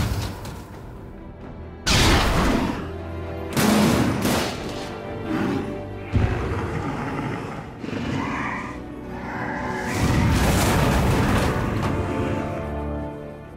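Heavy weapons in the Batman Arkham City video game, several loud booming blasts in bursts, each trailing into rumbling noise.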